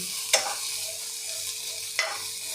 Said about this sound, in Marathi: इथे एक छोटा कांदा बारीक कट केलेला तो सुद्धा आपल्याला भाजायचा आहे